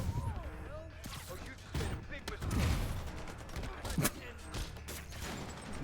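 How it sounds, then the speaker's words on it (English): Sniper and other gunfire in the Marvel's Spider-Man video game, heard as scattered sharp shots and bursts amid clanks and game effects, moderately loud. "Guy literally ate a whole lot of bullets, including some sniper ones."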